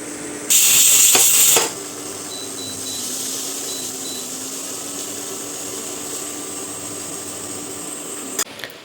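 A pressure cooker of mixed moong and toor dal on a kitchen stove lets out a loud, sharp steam hiss for about a second, then a quieter steady simmer with a brief click near the end.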